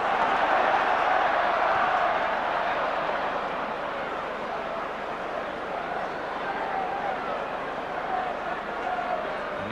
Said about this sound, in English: you could just hear the hum, the buzz around the ground